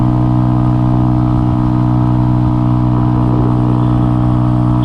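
A Mutt Fat Sabbath motorcycle engine idles with a deep, steady exhaust rumble, loud and close, holding an even throb throughout.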